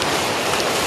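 Steady rain pours down outdoors in cold, windy weather at a rural snake-trapping site in Sóc Trăng, a dense continuous hiss of drops beating on surfaces, loud and close with no pause.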